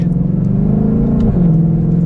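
A 2022 Ford Mustang Shelby GT500 Carbon Fiber Track Pack's loud exhaust drones steadily while driving, a deep, strong rumble heard from inside the cabin with a slight pitch shift partway through.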